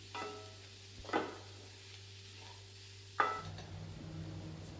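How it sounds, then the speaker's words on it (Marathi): A spoon stirs pea chutney in a pan, giving two distinct scraping strokes against a quiet kitchen background with a faint hum. "आता हे सगळं जे आपण सामान घातलेलं आहे ते चमच्याने एकदा चांगलं हलवून घेऊयात."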